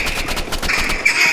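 An energy pistol fires in a video game, a quick burst of rapid repeated shots in a brief, dense volley with a steady electronic tone running beneath, no talking.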